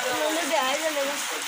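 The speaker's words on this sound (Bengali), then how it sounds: "সকাল থেকে এরকম বৃষ্টি হচ্ছে গুড়ি গুড়ি" Light drizzling rain falls steadily during Cyclone Remal in a village, making a soft, continuous patter and hiss close by. Faint voices may sit underneath it.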